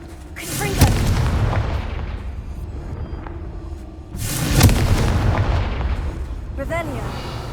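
Confringo fire spell blasts in Hogwarts Legacy, two heavy booming explosions a few seconds apart, each bursting loudly and rolling into a rumbling tail, with a crackling flourish near the end.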